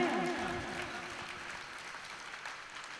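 Audience clapping hands during a devotional sermon, a dense burst of applause that starts loud and gradually thins out over a few seconds, with some background voices mixed in.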